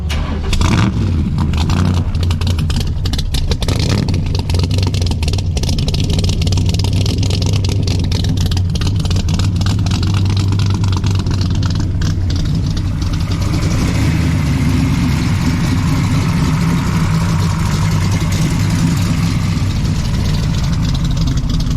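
A big hot rod engine rumbles loudly at close range at a car show in Chewelah, idling with a few sharp blips of the throttle early on before settling into a steady, lumpy run.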